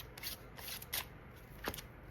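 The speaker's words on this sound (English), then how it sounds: "So I'll shuffle on screen right with you, Diva." Tarot cards being shuffled by hand, soft papery riffles and slides in a few brief bursts, faint and close in a quiet room.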